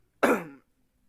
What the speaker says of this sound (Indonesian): Mohon maaf ya, Bapak agak batuk gitu.